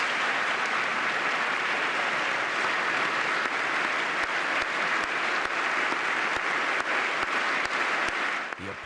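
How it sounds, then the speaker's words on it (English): Audience applause for a fallen hero, sustained loud clapping from a large crowd that continues unbroken, with a few sharper individual claps standing out before it fades at the end. "The applause lasted for almost a full 2 minutes."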